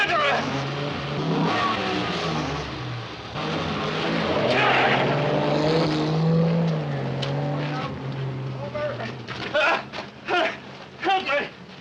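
Car in a 1957 film drives off and speeds away, its engine revving and rising over a steady rumble, with a voice shouting over it and sharp bursts near the end.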